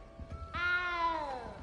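A cat in the Hogwarts Legacy video game gives one drawn-out, plaintive meow that rises and slowly falls, clear and close over a soft game background.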